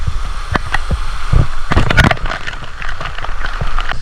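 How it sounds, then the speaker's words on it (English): Splashing, gurgling water at a waterfall and natural pools in Springbrook National Park's Gondwana rainforest, heard up close and loud as a steady rush with sharper splashes, no talking over it. "I'm in a waterfall, Mom."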